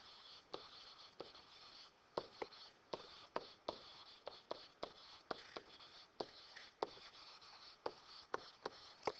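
Pen strokes scratch across paper as notes are written by hand, a steady run of short, quiet scrapes and taps close by, with no talking.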